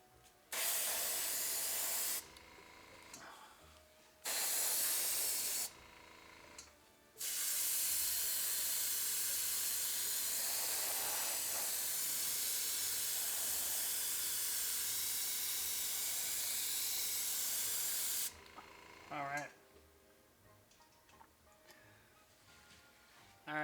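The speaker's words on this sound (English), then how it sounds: "Alright, so we just sprayed that really heavy" An airbrush sprays paint heavily over a surface, starting with several short hissing bursts and then a long, continuous loud spray before cutting off to near quiet.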